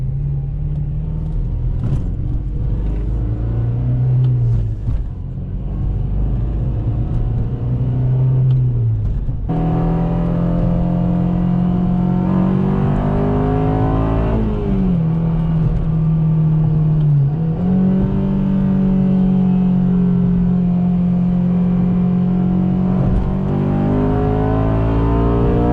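A 2007 Honda Civic Si with about 200,000 miles revs hard, its engine pitch climbing and falling repeatedly in a loud, close, sustained whine and rumble with no talking.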